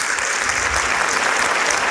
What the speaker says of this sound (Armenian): մի հատ ծափահարեք, խնդրեմ։